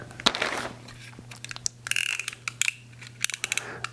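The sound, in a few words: unwrapping the packaging of a motorcycle engine guard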